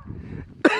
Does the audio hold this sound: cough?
yes